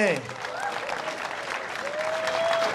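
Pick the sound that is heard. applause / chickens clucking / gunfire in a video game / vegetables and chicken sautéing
applause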